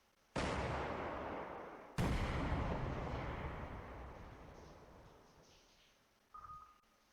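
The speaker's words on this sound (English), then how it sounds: "Oh, we're bombing." Two loud booming blasts from bombing in the naval and air warfare game Command Modern Operations, the second coming about a second and a half after the first, each rolling away slowly, followed by a short electronic tone.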